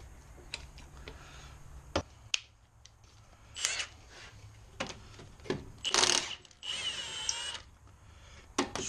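Impact wrench or power drill spinning off lug nuts from the front wheel of a 2005 Chevrolet Blazer during a brake job, several short loud bursts of whirring and rattling spaced across the clip, with clicks and handling noises between them.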